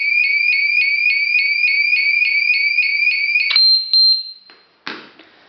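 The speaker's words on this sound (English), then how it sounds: "And now, if any of sensor lose, they will alarm." An anti-shoplifting central alarm unit sounds a loud, rapidly pulsing two-tone electronic beep that repeats steadily, then cuts off and gives way to a few short clicks and handling knocks.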